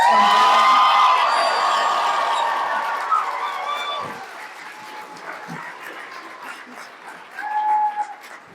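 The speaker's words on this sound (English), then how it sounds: "One more round of applause for our cast." Convention audience at a Sons of Anarchy cast panel claps and cheers, loud at first and then fading under scattered voices, with a brief whoop near the end.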